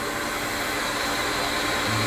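Vacuum pump holding a workpiece down on an Onefinity CNC vacuum table, giving a loud, steady, broadband whooshing hum with no break.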